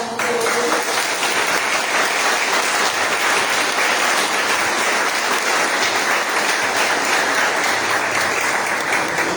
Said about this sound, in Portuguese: Uma salva de palmas para Deus.